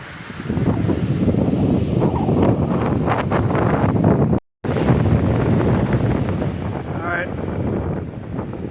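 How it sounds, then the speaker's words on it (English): Strong gusts at Sprague Lake in Rocky Mountain National Park buffet the microphone in a loud, continuous low rumble, cut by one brief dropout midway. "Eating a snack and getting beat up by the wind."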